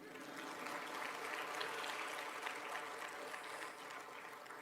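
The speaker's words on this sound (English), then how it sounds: "You can now give me an applause." Steady audience applause at a university orientation event, a continuous even wash of many hands clapping in a large hall, soft and somewhat distant.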